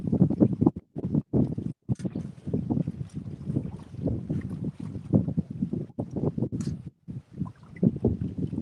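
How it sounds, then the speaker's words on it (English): Wind gusting against a boat and its microphone on open water while fishing for catfish, a loud, rough rumble in uneven bursts with short dropouts, no voices. "the wind's blowing right in our face"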